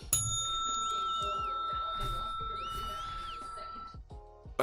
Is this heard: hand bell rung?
yes